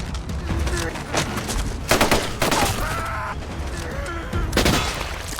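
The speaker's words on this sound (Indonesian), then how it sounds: "Bruno dan rombongan mendengar suara tembakan" Bursts of gunfire crackle in irregular volleys, sharp cracks clustered together amid a noisy, chaotic background with occasional louder blasts.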